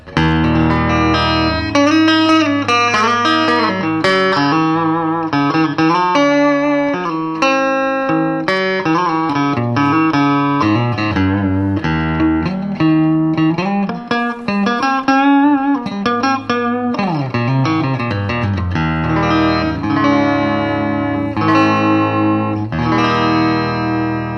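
A 1966 Mosrite Celebrity III electric guitar on the middle pickup position, played through effects with a blended, moderately bright tone, a continuous run of chords and single notes, loud and alone.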